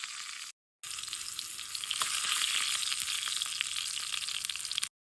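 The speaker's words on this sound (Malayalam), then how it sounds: "ഇനി ഇതിലോട്ട് ഒരു മൂന്ന് ഉണക്കമുളക് ഇട്ട് കൊടുക്കുന്നുണ്ട്" Dried red chillies frying in hot oil for biryani: a steady, bright sizzle and crackle that runs for several seconds, close up, after a brief silent gap at the start.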